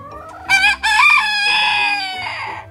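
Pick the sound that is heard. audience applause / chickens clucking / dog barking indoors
chickens clucking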